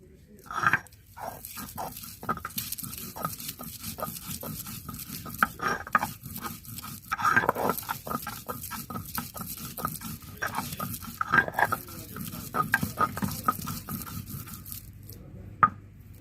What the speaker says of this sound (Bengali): কড়াইশুঁটিগুলো আমি এখন বেটে নেব।